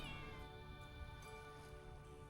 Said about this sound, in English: That is the sound of my cat screaming bloody murder at me